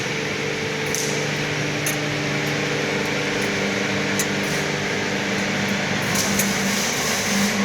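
Motorized rotating barbecue skewers, driven through a square-section rod coupling, turn with a steady droning mechanical hum and a faint whir, continuous and fairly close, with a few light clicks and no talking.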